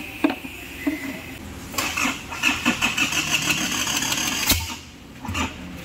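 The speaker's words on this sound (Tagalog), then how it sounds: "Hirap at mukhang walang intensyong umandar ang makina" An engine with a freshly replaced battery cranks but struggles to start, giving a rapid rhythmic chugging run of a few seconds that never catches, framed by sharp clanks and knocks.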